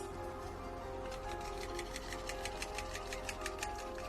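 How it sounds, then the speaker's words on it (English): A whisk beats soap colorant in a container. Rapid, regular clicking strokes run steadily over a constant motor-like hum. "let's mix up my other colors with a whisk"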